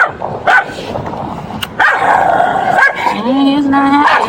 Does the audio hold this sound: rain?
no